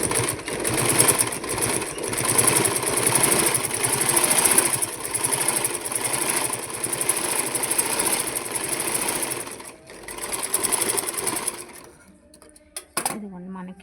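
Sewing machine stitching fabric folded four or five times: a close, rapid mechanical whir with rhythmic needle knocking, running steadily before stopping, followed by a short clatter and quiet.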